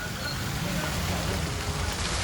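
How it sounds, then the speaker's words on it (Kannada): Heavy rain pours down in Ilkal, Bagalkot, as a dense, loud, unbroken hiss of water on surfaces lasting a couple of seconds. "ಬಾಗಲಕೋಟೆಯ ಇಳಕಲ್ನಲ್ಲಿ ಭಾರಿ ಮಳೆ ಆಗಿದೆ"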